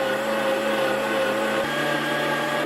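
Electric meat grinder pushing sausage meat into a casing, a steady loud motor whine with a sustained tone that dips slightly in pitch partway through, close and continuous.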